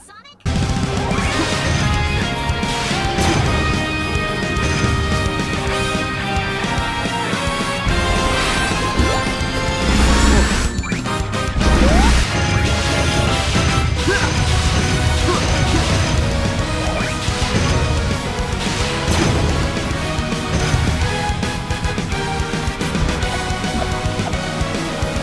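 Dense, loud soundtrack music from the video game Sonic Forces plays throughout, layered melodic and percussive parts with a couple of heavier hits partway, no speech over it.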